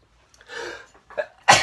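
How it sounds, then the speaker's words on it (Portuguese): Several human sneezes during an online lecture: a drawn-out first sneeze, a shorter second, then a loud sharp burst cut off at the end, each with breathy onsets against otherwise quiet room tone. "Desculpe os espirros aí."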